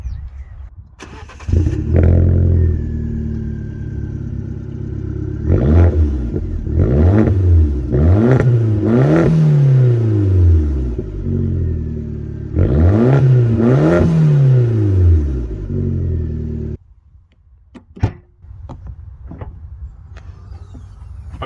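A Fiat Punto Evo engine idles and then revs repeatedly, its pitch climbing and falling in several loud bursts before settling back to a quiet idle.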